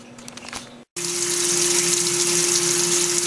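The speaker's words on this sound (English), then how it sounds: "We use coolant and spindle set manually and see what happens from there." Coolant flows on a Tormach PCNC mill, starting abruptly after a brief gap as a steady, loud hissing spray with a constant machine hum beneath it.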